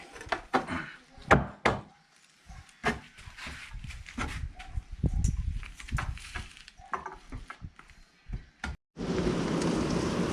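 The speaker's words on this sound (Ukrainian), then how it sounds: "О, у нас дощ розпочався." Rain patters steadily in the background, punctuated by scattered knocks and thumps nearby, then swells into a louder, dense hiss near the end.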